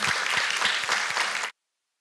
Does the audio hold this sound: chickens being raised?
no